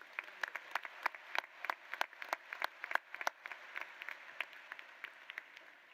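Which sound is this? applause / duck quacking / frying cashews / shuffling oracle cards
applause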